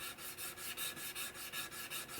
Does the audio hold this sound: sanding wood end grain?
yes